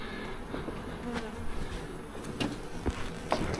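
A bee colony buzzes inside a couch as a dense, continuous drone, with a few soft knocks and rustles on top.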